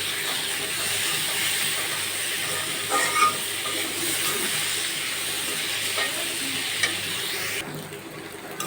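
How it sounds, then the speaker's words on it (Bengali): Snake gourd stir-fried in a pan on a clay stove, a constant loud frying hiss with occasional spatula scrapes and knocks, close up and without voices, the sizzle dropping slightly near the end. "দিয়ে ভালোভাবে নেড়ে চেড়ে মিশিয়ে নেব"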